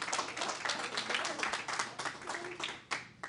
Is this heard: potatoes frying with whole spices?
no